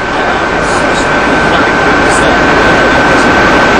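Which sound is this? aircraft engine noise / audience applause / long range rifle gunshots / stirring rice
aircraft engine noise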